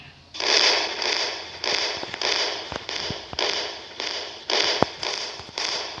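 Firecrackers burst in the Indian Bike Driving 3D video game as a steady series of loud crackling, hissing bursts in regular pulses, punctuated by sharp pops.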